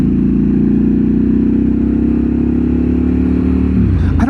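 A Triumph Scrambler 1200 XE motorcycle engine revs steadily through its exhaust, loud and close with a deep, continuous throaty rumble that shifts slightly near the end.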